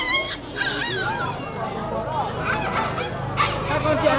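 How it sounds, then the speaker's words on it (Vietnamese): Dogs yip, whimper and bark at a dog and cat stall in a busy highland market in Meo Vac, Ha Giang, the small dog sounds mixing with steady crowd chatter and voices throughout. "Chỗ bán chó mèo các bạn nhé."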